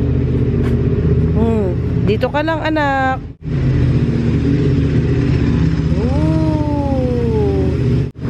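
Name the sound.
motorcycle engine running nearby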